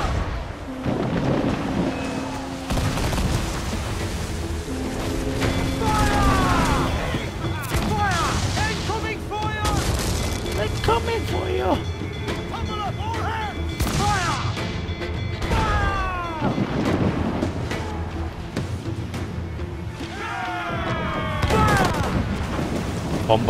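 Naval cannon fire from sailing ships in Assassin's Creed 4: Black Flag, with repeated deep booms rolling out over steady game music and chatter for the whole stretch.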